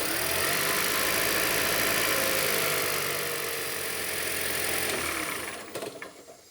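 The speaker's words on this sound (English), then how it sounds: "Now I'm going to run the engine for about 40 seconds and then turn it back off." A Lexus CT200h hybrid engine runs after an oil change, a steady close idle hum with a slight mechanical chatter that drops off as it shuts down near the end.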